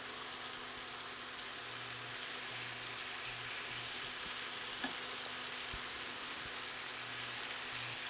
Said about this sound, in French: quand notre beurre commence à dorer, on met nos escalopes pour les faire bien